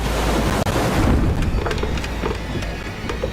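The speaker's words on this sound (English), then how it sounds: "big waves are slamming against the side of the boat." Big ocean waves on the Atlantic slam against the side of a raft. Loud, rushing water and wind noise blend with several sharp splashy impacts in quick succession.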